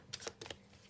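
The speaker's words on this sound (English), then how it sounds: "I'll just give it a really quick shuffle." An Arcanya tarot card deck gets a quick overhand shuffle, a few soft, close papery flicks and slaps in two brief clusters, faint and quiet.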